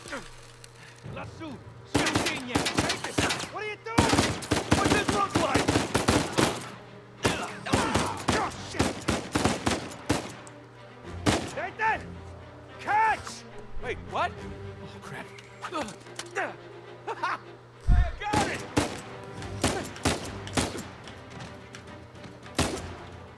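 Rapid bursts of gunfire in the video game Uncharted 4, sharp cracks and thuds coming in dense clusters over a steady low drone, with people talking intermittently between volleys.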